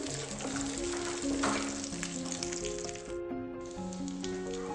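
Cashews fry in hot oil over a low flame for semiya payasam. A continuous, close crackling sizzle with fine popping runs throughout, dropping briefly near the end.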